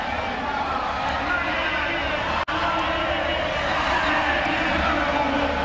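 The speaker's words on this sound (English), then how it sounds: "And now you're going to get the loud cheer for this man" A loud stadium crowd roars and cheers steadily for a Cameroonian athlete after a heat win at the African Games evening session, with continuous dense noise throughout.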